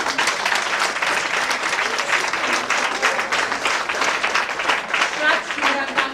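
Children applaud at a performance event, steady dense clapping that carries on loudly throughout, with some voices mixed in.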